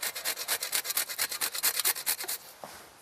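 Whole nutmeg rasped against a grater for quenelles de brochet, a quick run of about twenty close, even scraping strokes, then a brief pause and a faint final scrape.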